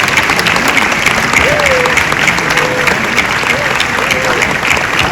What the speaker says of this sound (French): de les remercier par de chaleureux applaudissements